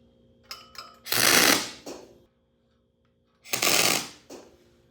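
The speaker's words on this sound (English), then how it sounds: "We weld this, or I weld this back on here." An aluminum truck fender for an expedition truck being welded: two loud, crackling bursts of about a second each, separated by silence, with faint clicks before the first.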